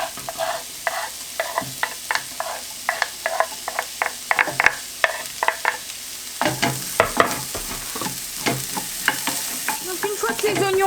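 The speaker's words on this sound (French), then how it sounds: "je vais y faire revenir 2 oignons émincés et une cuillère à soupe d'ail" Two sliced onions and a spoonful of minced garlic fry in olive oil in a pan, with a soft steady sizzle beneath repeated sharp scrapes and taps of a utensil stirring.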